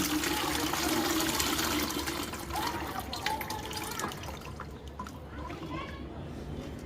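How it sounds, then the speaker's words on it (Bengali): Wet clay soil is strained with water for terracotta, making continuous splashing and trickling that is loud at first and then eases into softer dripping, with a voice talking over it. "এখন আমরা মাটিটা ছেঁকে নেব"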